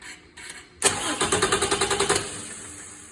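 A car engine cranks on its starter after two short attempts, then grinds in a steady rapid rhythm of about a dozen loud, close pulses before cutting off to quiet.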